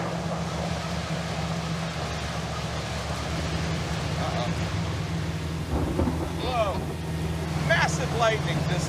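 Heavy rain pounding a car driving on a highway during a thunderstorm, a constant roaring wash with low road rumble underneath, while people inside talk and exclaim toward the end.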